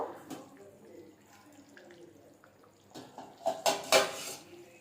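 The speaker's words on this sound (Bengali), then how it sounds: "এবার এখানে আমি ভেজে রাখা আলুগুলো দিয়ে দেব" Fried potatoes tipped into a pan of chicken curry: quiet kitchen sounds at first, then a run of loud metallic clinks and scrapes of a spoon against the pan near the end.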